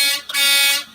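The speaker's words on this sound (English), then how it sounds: "He's a truck driver, and I honked his horn." A semi truck's air horn blasts loud and close in two bursts, a short honk and then a longer sustained blare, with no talking over it.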